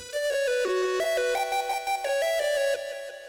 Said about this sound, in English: here you have the rectangle sound